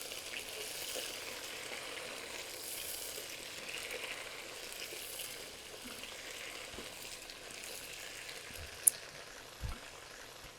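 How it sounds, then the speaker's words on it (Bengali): Potatoes fry lightly alongside chicken pieces in a pan for a chicken curry, giving a quiet, steady sizzle with a couple of sharp clinks of utensils near the end. "আলুটাকে আমি হালকা একটু ভেজে নেব চিকেনটার সাথে।"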